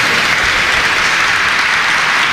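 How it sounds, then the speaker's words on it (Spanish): An audience applauds the new president of the judiciary at a swearing-in ceremony, a dense and loud burst of clapping that holds steady for the whole moment with no voices over it. "Le brindamos un fuerte aplauso."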